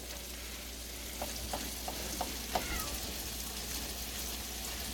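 Sausage or hamburger meat frying in a pan for Southern country gravy makes a steady close sizzle, with a few soft clicks of stirring partway through, and no voices.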